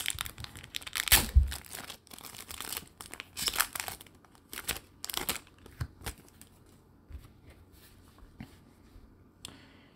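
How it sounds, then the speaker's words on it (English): A Panini Chronicles Draft Picks football card pack wrapper is torn open with sharp crinkling rips and crackles, loud bursts early, then scattered softer rustles and snaps of foil and cards being handled up close. "Let's go ahead and rip into pack number two."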